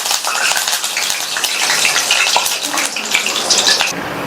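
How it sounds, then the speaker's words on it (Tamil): Curry leaves are dropped into hot oil after the stove is switched off, setting off a loud, bright crackling sizzle that holds steady for several seconds. "இந்த சூடான எண்ணெயில கொஞ்சமா கருவேப்பிலை இலைகளை சேர்த்து எண்ணெயிலேயே வறுத்துடலாம்"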